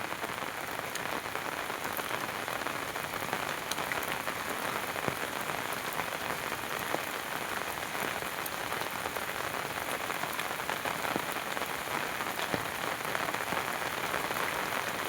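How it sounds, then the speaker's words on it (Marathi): Steady, dense monsoon rain pours down without pause over flooded fields, a loud continuous hiss of drops hitting surfaces, with no voices. "पाऊस एवढा पडतो मित्रांनो भरमसाठ"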